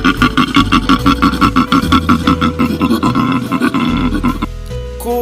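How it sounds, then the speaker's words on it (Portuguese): Koala vocalizing in a loud, close series of rapid, rhythmic grunting bellows that run on for several seconds before stopping. "koala"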